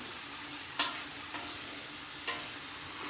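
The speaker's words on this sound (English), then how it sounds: "Got that butter down there melting. Good sizzle going." Steady close sizzling and crackling of butter melting in a pan, with a few soft clicks of a utensil.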